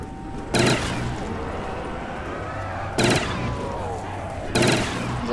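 The Death Machine gun in a custom Call of Duty zombies map at a truck stop fires in three short loud bursts, spaced a couple of seconds apart over steady game background noise.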